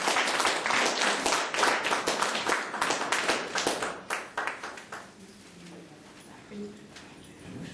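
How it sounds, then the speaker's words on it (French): Audience applause after a speech at a 14 July ceremony, a dense burst of many hands clapping that gradually thins and fades out, with faint voices beneath it. "donc merci de l'applaudir"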